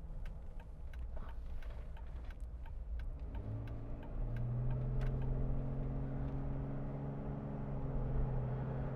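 A 2014 Jeep Wrangler Unlimited Sahara accelerates through its gears, the engine note steadily rising and strengthening alongside a constant road rumble.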